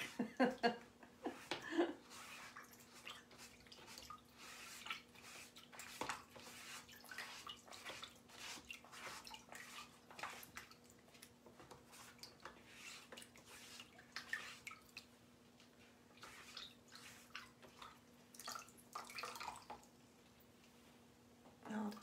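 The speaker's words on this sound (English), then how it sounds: "I like to wash my transfers right away." Running water splashes and drips as jar cutout transfers are rinsed under a tap, the spatter uneven and close, with a faint steady hum underneath.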